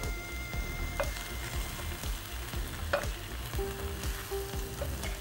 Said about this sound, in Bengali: আগে আমরা রাজমাটা দিব, তারপরে মাসকলার ডাল